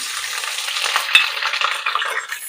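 Whole spices, cloves, black pepper and cardamom, crackle and sizzle in hot oil in a pan, a loud, continuous frying hiss with a sharp pop near the middle, heard close and alone with no talk.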